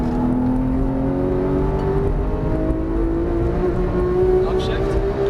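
A Porsche 991 GT3 pulls hard around the Auto Club racetrack, its engine note climbing smoothly and loudly from inside the car while a driver talks through the run.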